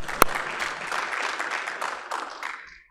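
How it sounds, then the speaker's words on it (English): An audience at a youth convention breaks into sustained applause, dense clapping holding steady for about two seconds after a sharp opening clap, then thinning and fading out. "you may go ahead and clap"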